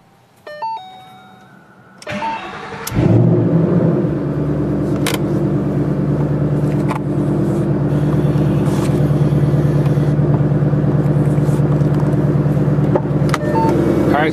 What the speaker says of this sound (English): is what the 2014 Shelby GT500 sounds like.